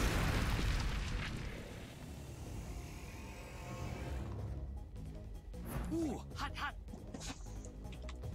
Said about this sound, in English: And the explosion will happen.